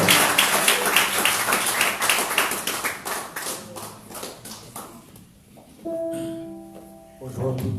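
Congregation in a church service applauding a singer called to the front, a dense wash of clapping for several seconds that thins out, followed by a few tonal musical notes and a brief voice.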